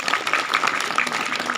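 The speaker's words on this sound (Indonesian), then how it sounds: "Kita tepuk tangan dulu untuk ibu-ibu semua." An audience claps for the mothers at a Mother's Day gathering, a steady wash of applause throughout with faint voices mixed in.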